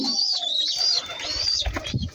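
Pigeons at a loft where young have hatched, with soft cooing and chirping calls close by, accompanied by a fluttering and rustling as a bird flies in to the nest.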